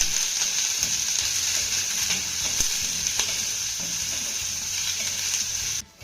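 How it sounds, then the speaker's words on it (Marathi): Onions fry in oil in a pan for a spinach bhaji, giving a steady, close hiss. A few soft scrapes of stirring sound through it before it cuts off abruptly at the end. "हा कांदा देखील आपल्याला छान असा सोनेरी रंगावरती भाजून घ्यायचा आहे"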